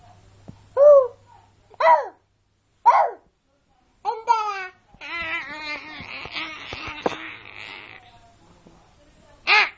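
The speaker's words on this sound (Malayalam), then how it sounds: "പൂച്ച" A series of distinct, rising-and-falling meows, several short calls spaced apart, then a busier stretch of overlapping vocal sounds, fairly close and clear.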